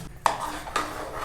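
A spoon clinks twice against a bowl while pulihora tamarind rice is mixed, two sharp close knocks with a soft scraping between them and no talk.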